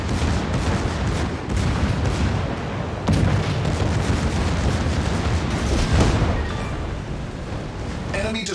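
Heavy booming gunfire and explosions from a naval battle in World of Warships as an enemy destroyer blows up, dense and continuous with sharp blasts around the middle and end.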